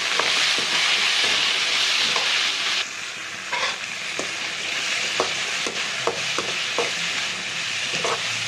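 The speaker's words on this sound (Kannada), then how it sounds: "ಇವಾಗ ಕಟ್ ಮಾಡ್ಕೊಂಡಿರೋ ಟೊಮೊಟೊ, ಪುದೀನ ಮತ್ತು ಹಸಿಮೆಣಸಿನ್ಕಾಯಿ ಹಾಕೋಣ" Loud oil sizzle as chopped tomato, mint and green chillies go into browned onions for a chicken heart and liver sambar, with a continuous frying hiss and repeated stirring scrapes and clinks.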